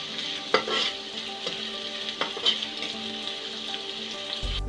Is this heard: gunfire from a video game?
no